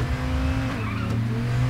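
A car in the game Payday 2 drives with a close, steady engine drone. Its pitch drops and shifts briefly midway as it changes speed, then holds a constant low hum, with no voices.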